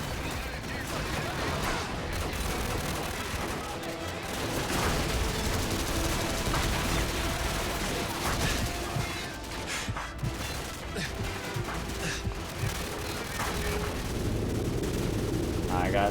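Dense, continuous gunfire and explosions from the video game Call of Duty 4 campaign fill the whole stretch, loud and relentless with bursts of shots layered over rumbling blasts.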